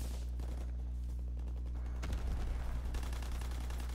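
Rapid bursts of gunfire in the shooter game Call of Duty: WW2, with a quick volley of shots and then a louder, sustained round of firing over a steady low background rumble.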